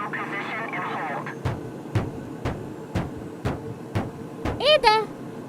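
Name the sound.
airplane cabin during air turbulence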